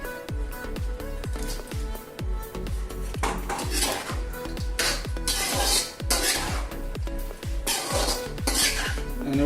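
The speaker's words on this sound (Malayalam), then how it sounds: "നമുക്കിതിനകത്ത് ചിക്കൻ ഇടാം കേട്ടോ." Pieces of chicken being tossed and stirred in a pan with onion and capsicum for restaurant-style chilli chicken: a fast, regular run of metal spatula scrapes and clanks against the pan, close and clear, with light sizzling between strokes.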